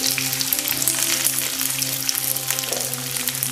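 Sliced onions sizzle in hot oil in a pan while gobi manchurian is being cooked, a steady close crackling fry with no talking.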